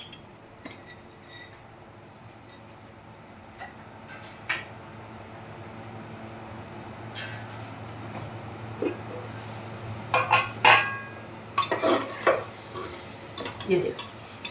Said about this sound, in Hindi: ये देखो, इस तरह से अपने को फ्राई करते रहना है